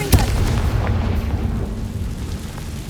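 Confringo fire-blast spell from a wizard in Hogwarts Legacy, a loud booming burst at the start followed by a rumbling, crackling roll that fades slowly with no talking over it.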